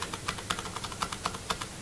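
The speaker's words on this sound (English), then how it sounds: "I can just hit my down arrow on my keyboard to change how those fit." Repeated taps on a computer keyboard's arrow key, crisp plastic clicks in a fairly regular rhythm about four per second, close and moderately quiet with no talking.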